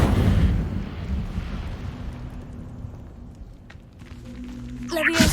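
A fiery spell cast in the game Hogwarts Legacy: a deep, rumbling burst of flame that fades, followed by lighter clanks and a sharp flare near the end, with a voice calling out over it.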